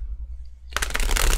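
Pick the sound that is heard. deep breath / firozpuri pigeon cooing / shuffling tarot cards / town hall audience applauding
shuffling tarot cards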